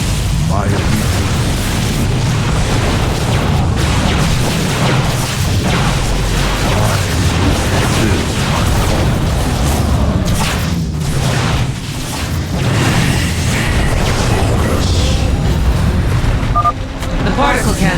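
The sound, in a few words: particle cannons exploding in StarCraft II video game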